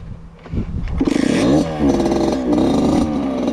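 A motorbike engine revs hard during a top-speed run, climbing through sharp rising and falling sweeps with a clattery edge, close and loud after a brief quieter start.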